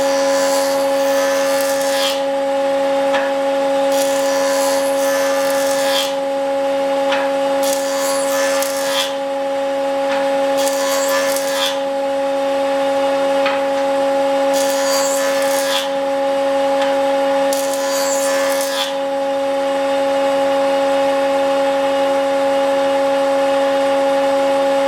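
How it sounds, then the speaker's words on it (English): A jointer runs the edge of a lumber board in repeated passes, giving bursts of bright rasping cut noise over a steady machine hum, loud and close, with no talk. "That's the end that I want to run through the joiner to joint the edge."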